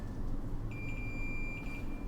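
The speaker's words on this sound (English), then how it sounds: "If the two ends of these probes meet together, you will hear a beeping sound, indicating that there is an electrical connection between them." A multimeter's continuity tester beeps as its probe tips touch: a steady, high electronic tone starts partway through and holds to the end over a low background hum.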